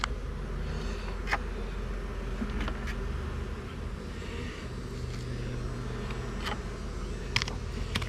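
Bees hum in a low, steady drone around an open hive outdoors, with occasional brief clicks and knocks.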